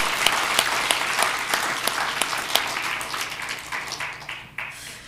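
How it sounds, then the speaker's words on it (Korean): A church congregation at a Thanksgiving Sunday service applauds, a steady wash of many hands clapping that gradually thins and fades out. "주님께 감사하며 영광의 박수를 올려드립니다"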